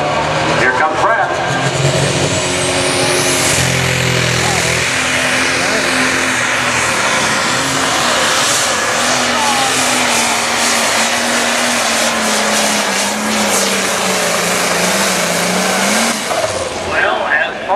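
A light pro stock pulling tractor spools up its engine at an NTPA tractor pull in Fort Recovery, Ohio. The loud, sustained roar climbs and drops in pitch, with a voice talking over it.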